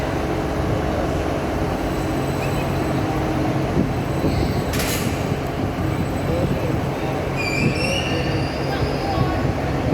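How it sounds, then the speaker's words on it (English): A Class 755 train rolls into a station platform with a steady loud rumble of wheels and engine, brief squeals and hisses of brakes near the end, close at hand. "Then I got a shot of Class 755 331 arriving into Platform 3."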